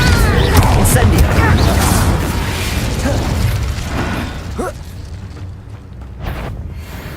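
Incendio fire spell cast in Hogwarts Legacy, a loud roaring, crackling burst of flame with mechanical rumble that fades over several seconds, with a voice shouting over it.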